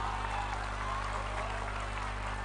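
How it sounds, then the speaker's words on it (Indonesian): Audience applause at a regional speech contest held at an Islamic boarding school in Bojonegoro, a steady wash of clapping throughout over a low constant hum, moderately loud and without pause. "Tepuk tangannya mana dong?"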